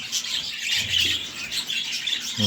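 Pet birds with their chicks chirp and squawk constantly at close range, a dense bright chatter of overlapping calls with no pauses.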